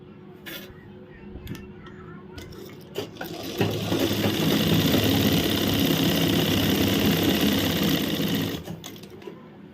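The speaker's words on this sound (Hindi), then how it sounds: "अब इसके ऊपर से लगा देंगे एक सिलाई पलट के यहां पर, जिससे हमारी पॉकेट मजबूत रहे।" A sewing machine stitches a pocket onto palazzo trousers, running in one loud, steady mechanical whir for about five seconds after a few handling clicks and knocks, close by.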